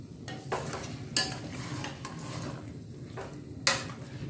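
Jaggery and dal being stirred in a pan with a spoon, scraping and knocking against the metal in irregular strokes with a few sharper clinks, faint sizzle beneath and no talk.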